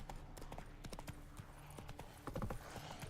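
Horse hooves galloping in the video game The Witcher 3 make a fast, steady clip-clop rhythm that stays faint and even throughout.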